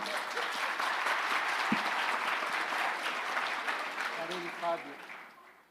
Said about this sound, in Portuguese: Palmas pro São.